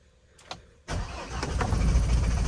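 A Mahindra Thar diesel engine cranks in -19° cold high in Spiti at around 15,000 feet, with a couple of faint clicks before a loud, rough churning that grows stronger and runs without pause to the end.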